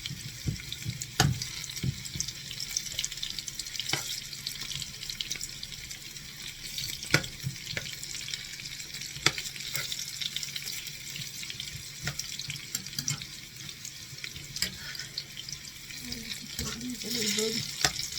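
Green beans in tempura batter deep-frying in hot grease, a steady hiss and bubbling with occasional clicks and stirring, close and continuous.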